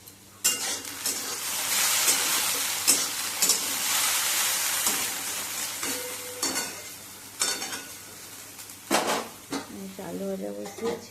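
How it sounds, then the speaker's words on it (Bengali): Potatoes fried in a pan in a home kitchen: a soft sizzle runs under repeated scraping and stirring clatter of a utensil against the pan, with someone talking over it at moderate loudness. "আর এখানে আলু ভাজা বসিয়েছি"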